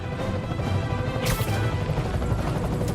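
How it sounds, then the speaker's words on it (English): A loud mechanical rumble with a sharp crashing impact in the middle, dense and continuous like a hovering helicopter swinging a wrecking ball amid heavy action in Spider-Man on PS4. "I'm getting reports of a helicopter with a wrecking ball"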